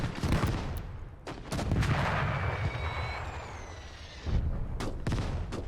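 In the World War II video game Gates of Hell, set during the 1941 German invasion of the Soviet Union, a mortar and other guns fire several heavy, booming shots with rumbling decays, and a faint whistle sounds between them.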